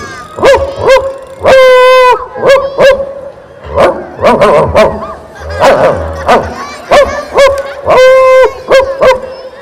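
A person's voice imitates a big dog barking at a school anniversary stage event, producing a series of loud, clipped woofs in quick bursts with short pauses between them.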